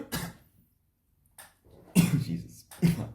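A few harsh coughs close to the mic, one early burst then two more after a pause, with faint breathing between.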